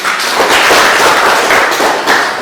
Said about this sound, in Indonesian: kita berikan aplaus untuk